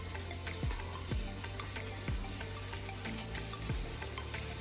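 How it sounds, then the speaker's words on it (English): Frozen spinach drops into a pan of creamy garlic chicken and potatoes, setting off a steady, close sizzle and bubbling with repeated soft thuds and clinks as pieces land and settle. "now, last but not least, we're going to go in with that frozen spinach"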